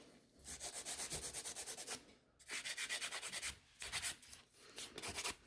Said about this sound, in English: So I'm filing one side, other side.